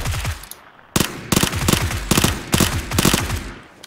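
Automatic gunfire from the PUBG battle royale game, with several rapid bursts of shots fired close by in quick succession and short gaps between volleys.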